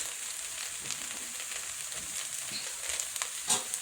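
Minced beef stew simmering in a pot, a soft continuous sizzle and bubbling with faint intermittent pops, quiet and close, no talking.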